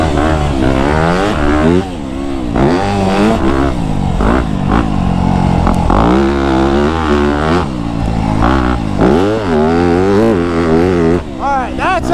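A 2025 Yamaha YZ250F dirt bike rides a sand track in the woods, its engine loud and close, revving high and falling repeatedly through gear changes with continuous rising and dropping pitch.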